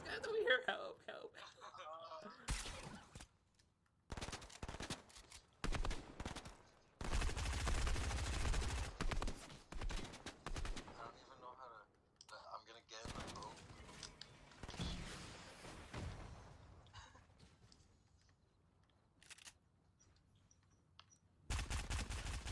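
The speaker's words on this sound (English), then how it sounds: "Yo, I hear shooting." Gunfire in the Fortnite video game, rapid bursts of shots in separate loud clusters broken by quiet gaps, with players talking in between.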